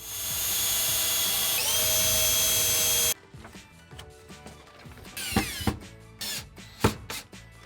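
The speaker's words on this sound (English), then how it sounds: "let's grab a drill and install these mounting screws" A power drill drives mounting screws for a two-stage water filtration system, a sustained whirring whine for about three seconds that cuts off abruptly, then a series of short, sharp bursts of drilling and clatter.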